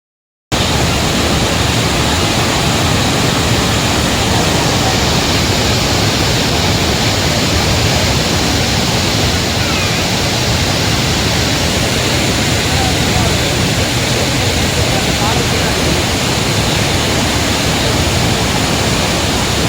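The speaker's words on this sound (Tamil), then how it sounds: "இதுதான் அதரப்பள்ளி ஃபால்ஸ் மெயின் ஃபால்ஸு." Athirapally main waterfall roaring, a dense, loud, steady rush of falling water filling the whole stretch without letup.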